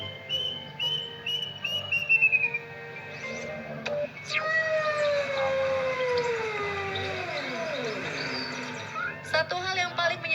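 A bird's call rises and falls in long whistled, tonal notes, heard loud and close, repeating with glides and a few shorter chirps toward the end.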